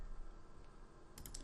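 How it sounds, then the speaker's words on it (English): Keystrokes clatter on a computer keyboard in a quick, fairly close run, ending in a brighter burst of several sharp clicks, with no talking. "How come I'm typing so bad?"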